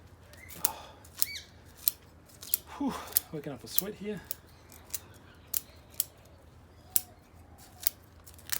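Sharp, thick scissors snip through the roots of a trident maple bonsai during repotting, a steady series of crisp clicking cuts, close and fairly quiet, with a person briefly talking in the middle.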